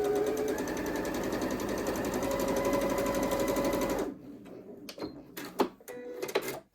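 A sewing machine stitches a Box Mosaic quilt block, a steady rapid whirring run for about four seconds that then stops, followed by a few scattered clicks and handling noises.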